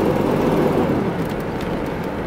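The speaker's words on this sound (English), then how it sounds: "Chevy pickup truck sound, man." A one-owner 1988 Buick Electra Estate station wagon sits running, its engine giving a steady, deep low rumble close by, with no voices over it.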